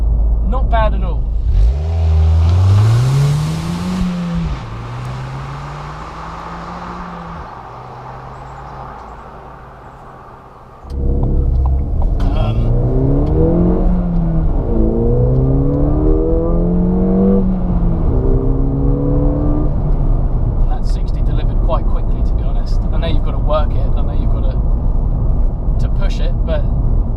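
A Ford Fiesta ST hot hatch engine revs hard through the gears, climbing in pitch with each shift, dropping off briefly, then accelerating again loudly and close by.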